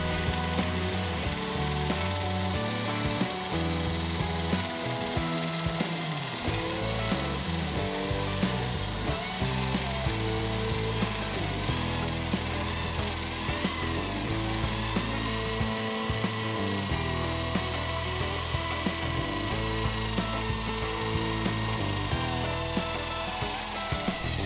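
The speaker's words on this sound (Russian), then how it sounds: "Далее сверлим отверстие без предварительного рассверливания" A loud Sturm ID21580K electric drill with a 5 mm bit whirs steadily for the whole stretch, boring a hole without pre-drilling, with a continuous grinding, rattling mechanical chatter.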